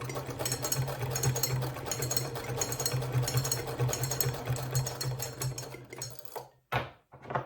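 Sewing machine stitching quilt pieces for a mini churn dash block, a close, steady rapid needle clatter with a low motor hum, running continuously before stopping in short bursts near the end.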